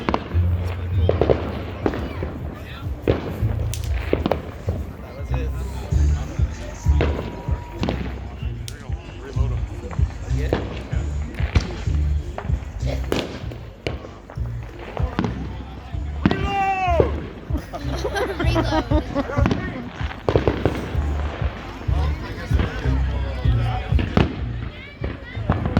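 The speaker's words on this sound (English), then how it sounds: "Oh, what the heck? Fireworks!" Fourth of July fireworks bang and crackle in a rapid, sustained barrage of close, loud bursts, with whistling shells rising amid the pops and people talking and shouting underneath.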